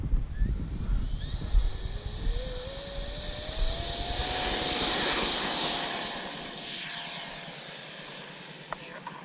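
A Freewing F-16 V3 70mm electric ducted-fan RC jet spools up and takes off, its high whine rising in pitch and swelling loud as it passes close, then fading into the distance, with wind buffeting at the start.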